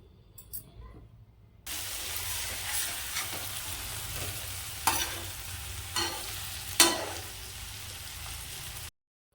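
Fish frying in a pan with a steady, close sizzle and spatter that starts abruptly and runs on, broken by occasional stirring clatters before cutting off.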